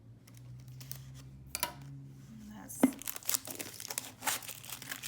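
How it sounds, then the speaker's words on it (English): Someone peels the label off a plastic bottle, with a rising crinkle and a sharp tearing rip, then more crackling plastic handling, nearby and fairly clear. "You're going to peel the label."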